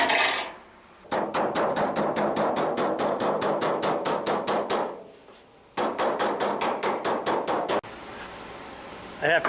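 Rapid, evenly spaced hammer blows ring on a metal car body flange clamped to a bench, in two long runs separated by a short pause, close and loud.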